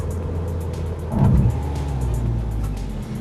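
A Dodge Caliber SRT-4 driven hard, its engine note swelling into a brief louder surge before settling back to a steady, close road drone, with no talking.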